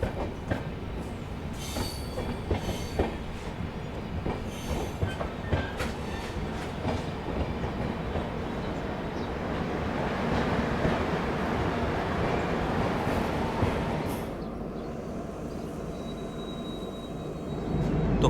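A Humsafar Express rolls through Assam near Jatinga Lampur station, with continuous rumbling wheels, rhythmic clicks over rail joints and occasional squeals, heard from on board and growing louder mid-way.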